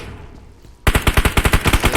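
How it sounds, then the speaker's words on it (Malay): Gunfire in a competitive video game match breaks a quiet lull as a sudden loud burst of rapid automatic shots, about a dozen in quick succession. "Sekarang ini satu tembakan akan cuba dilepaskan."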